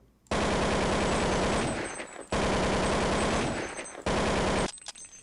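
Long AK-47 bursts of automatic spray fire in Counter-Strike, three sustained loud volleys of rapid gunshots, each cut off abruptly, with a short gap between them.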